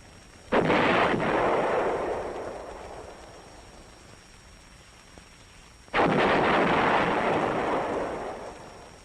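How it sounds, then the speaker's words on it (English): Two heavy booming blasts from an M102 lightweight 105 mm howitzer firing in the field, each a sharp loud report followed by a long rolling decay, spaced several seconds apart with no voices. "artillery piece that has proved itself on the field is the M102, a lightweight 105 millimeter howitzer"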